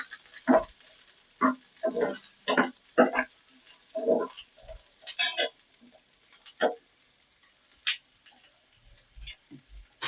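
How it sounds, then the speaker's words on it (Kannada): Onion and three green chillies frying in a hot pan while being stirred, giving a string of short, close scraping and sizzling bursts with pauses between them, no talk. "ಫ್ರೈ ಮಾಡ್ಕೊತಾ ಇದ್ದೀನಿ."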